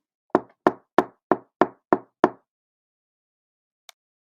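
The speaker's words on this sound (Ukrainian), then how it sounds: "сім стукотів у двері" Seven sharp knocks on a door in a steady, evenly spaced series, close and clear against silence, followed after a pause by one faint tap.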